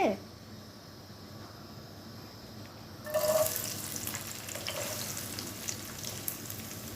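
Chopped onion pieces dropped into hot oil in a cooking pot, setting off a sudden sizzle partway through that settles into a steady frying crackle after a quiet stretch.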